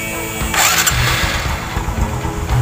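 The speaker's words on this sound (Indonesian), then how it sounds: "Untuk selanjutnya barulah kita pencet tombol starter." A motorcycle engine is cranked with the electric starter button and catches, a rough mid-pitched crank-and-fire burst followed by steady running, close and loud with no talk.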